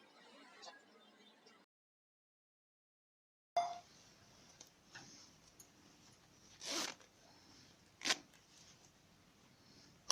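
A zipper being drawn and handled on a blouse during sewing, giving a few short, close rasping pulls with a clear gap of silence early on and scattered fabric rustles.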